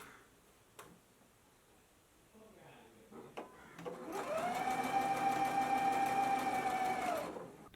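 Sewing machine stitching a dress sleeve seam at a 5/8 inch seam allowance: after some quiet handling noises, a close, steady motor whir with rapid needle ticking runs for about three seconds, then stops.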